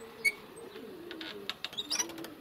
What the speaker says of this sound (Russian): Голуби тут везде. Голуби, голуби.